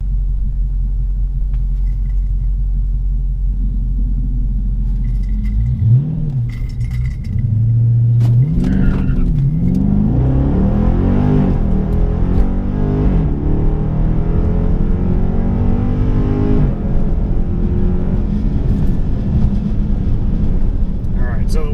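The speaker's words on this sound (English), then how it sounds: "go for my first race of the season in my grandma's car" A 392 HEMI Dodge Charger rumbles deeply at idle on a drag strip, then revs and launches into a loud sustained engine roar, with a voice speaking near the start.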